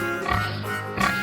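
A cartoon pig oinks in a short grunting burst over a bright musical backing, heard clearly and close with no speech.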